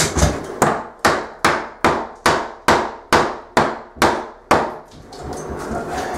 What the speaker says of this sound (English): I'm gonna get the hammer and see if we can knock that away